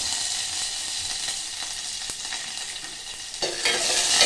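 A tempering of fenugreek seeds, dried red chili, green chilies and curry leaves hisses in hot oil for bottle gourd curry, a loud, steady sizzle with crackles that swells stronger near the end.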